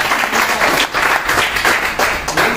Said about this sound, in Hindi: इसलिए ताली बजवाया